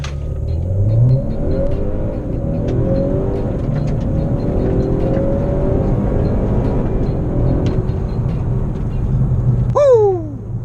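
A 2018 Honda Accord 2.0 turbo pulls hard in a 0-60 run with an aftermarket intake: a loud, continuous engine drone rises in pitch as it accelerates, heard from inside the car and ending with a brief sharp chirp.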